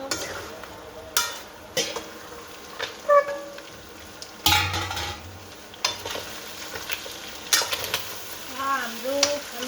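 Mutton stirred as it fries in a pan for a Nepali-style curry, with intermittent scraping strokes of a spoon over a soft steady sizzle, close up and with no talk.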